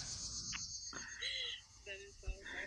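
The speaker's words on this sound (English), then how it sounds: "What are those bugs again called? Cicadas." Cicadas buzz outdoors in a steady, high, dense drone that runs through the whole stretch, with a few faint voices and scattered brief sounds over it.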